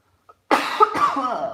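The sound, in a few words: cough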